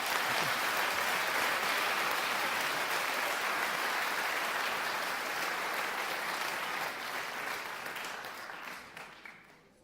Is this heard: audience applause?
yes